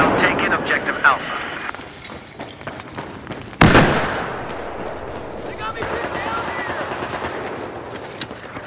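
A single loud grenade blast in Battlefield 4 during a fight for an objective, a sharp boom with a decaying rumble, set amid scattered distant gunfire and battle noise.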